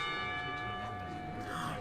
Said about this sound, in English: I rub my eyes as the lunch bell rings out